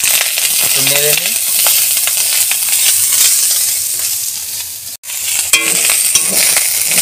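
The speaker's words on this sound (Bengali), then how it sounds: "একটু নেড়ে নিই।" Rice stir-fried with fried spices in a hot pan gives a continuous close sizzle under repeated scraping and clattering of a spatula, with a brief pause near the end before the stirring resumes.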